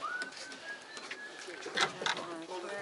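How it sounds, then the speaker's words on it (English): Pigeon or dove cooing and calling near a fishing pier where a bird got caught in a fishing net, brief repeated coos over background chatter and outdoor noise, with people talking nearby. "Bird got caught in the net."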